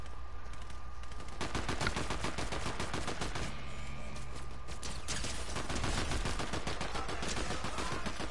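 Rapid automatic gunfire in the video game Fortnite, dense repeated shots firing in long continuous bursts at steady loudness, with no talk.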